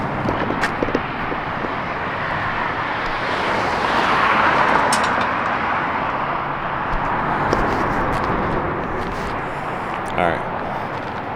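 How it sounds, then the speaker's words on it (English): A car drives past outside a cemetery at night, its engine and tire noise swelling gradually to a broad whoosh in the middle and then fading, with someone talking quietly over it. "Hold on, somebody's driving by me."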